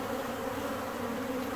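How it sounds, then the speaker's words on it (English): A wasp buzzes steadily and close by near a single beehive on a September day in Newfoundland, a continuous drone with no talk. "there's a freaking wasp"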